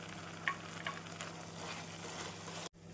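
A pan of cauliflower honey chilli bubbles over a high flame, a faint steady simmering hiss with a few soft stirring sounds, over about three seconds with no talk.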